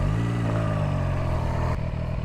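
A Zontes 703 RR motorcycle engine runs close and loud with a steady, throaty idle hum that cuts off abruptly near the end.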